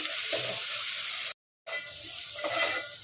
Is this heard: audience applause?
no